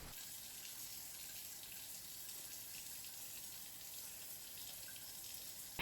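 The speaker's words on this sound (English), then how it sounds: "I don't mind taking a few extra minutes to wash things up and reset the kitchen" Water runs steadily from a kitchen tap into the sink while dishes are washed up, a faint continuous hiss with light splashing throughout.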